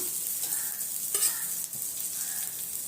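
Prawn vadas fry in shallow oil in a pan, giving a steady, close hiss of sizzling that holds even throughout with a few brief crackles and soft scraping touches.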